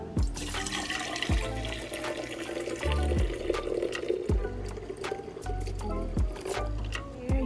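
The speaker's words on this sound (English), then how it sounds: "Let's go on ahead and get this water inside of our carafe." Hot water pours into a double-insulated Tiken carafe in a steady, close gurgling stream, with small sloshing pulses as the vessel fills.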